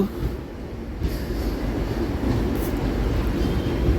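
A DEMU passenger train runs between Secunderabad and Siddipet, heard from inside as a steady low rumble and rattle of wheels on track, continuous and fairly loud.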